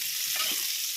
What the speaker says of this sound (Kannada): ತೆಂಗಿನಕಾಯಿ, ಹಸಿ ವಾಸನೆ ಹೋಗೋವರೆಗೂ ಹುರಿಬೇಕಾಗ್ತದೆ.